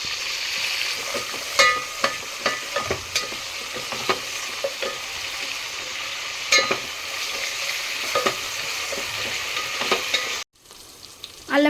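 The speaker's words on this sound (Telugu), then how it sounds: "అల్లం పేస్ట్ అయితే మంచిగా పచ్చివాసన పోయేంత వరకు ఫ్రై అయింది" Ginger paste fries in a pan for mirchi ka salan, a steady close sizzle with scattered scraping stir clicks throughout, briefly cutting out near the end before resuming.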